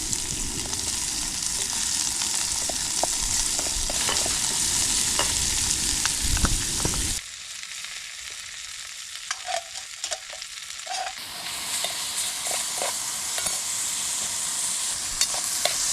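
Onions sizzle and spit in a hot pan on a Trangia camping stove outdoors, with occasional stirring scrapes; the sizzle drops quieter for a few seconds midway, then picks back up.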